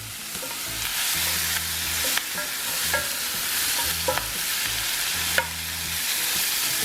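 One whole sweet Vidalia onion fries in a pan for a Cajun pork chop dish, making a loud, dense sizzle with a low rhythmic rumble underneath and occasional sharp scrapes of a utensil.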